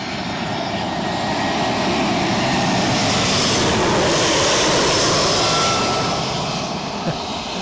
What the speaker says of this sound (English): I can hear the EasyJet